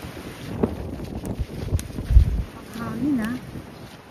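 Strong gusts buffeting the microphone on a bridge in an urban national park, rising and falling rumbles with brief voices and a short whistle-like tone in between.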